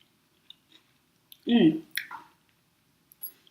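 A bite of avocado and egg is chewed up close, with a few soft wet squishing mouth sounds and clicks amid near silence.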